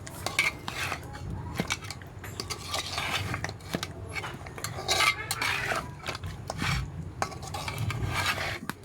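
Beef trotters for nihari are stirred into spices in a pot, with repeated close metallic scraping and clanking of a utensil over a low sizzle and no speech.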